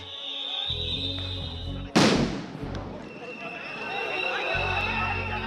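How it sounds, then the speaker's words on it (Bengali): A sharp sound grenade blast during a police action against protesters on a Dhaka University campus bursts out once, loud and sudden, and fades into a rumbling, noisy outdoor crowd background. "বেশ কয়েকটি সাউন্ড গ্রেনেড বিস্ফোরণেরও শব্দ শোনা যায়।"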